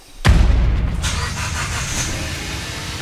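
A Kia Ceed GT engine starts with a sudden loud crank-and-catch after a new PCV valve is fitted, then settles into a close, steady, slightly uneven idle.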